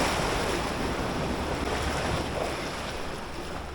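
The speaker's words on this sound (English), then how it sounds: "Water's rough this morning." Rough morning sea surf washes steadily, a broad continuous roar of breaking waves with wind buffeting the microphone, close and fairly loud throughout, no voices.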